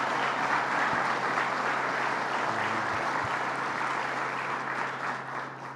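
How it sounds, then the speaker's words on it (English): Steady crowd applause at a public announcement by New York officials about a deal to save Alcoa jobs, continuous and dense throughout before tapering slightly at the end. "So let's give them a round of applause."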